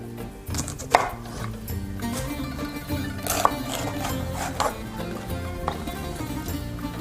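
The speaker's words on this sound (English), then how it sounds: "cut them in rough, as we said, pieces. And we carry on doing the same for the red peppers." A knife roughly chops red peppers on a cutting board while preparing Greek spetsofai, with steady repeated cuts heard close up over continuous background music.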